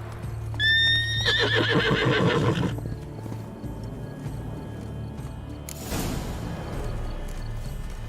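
Roach, the horse in The Witcher 3 video game, gives one loud, wavering neigh, then snorts and clip-clops its hooves against a quiet outdoor ambience.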